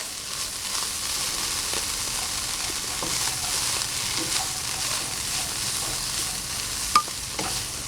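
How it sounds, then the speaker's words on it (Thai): Tuna filling being stir-fried in a pan until dry, a steady close sizzle broken by scraping stirs and light clicks from the utensil, with no talk. "แล้วผัดจนกระทั่งเขาแห้งแบบนี้แล้วใช้ได้แล้วนะคะ"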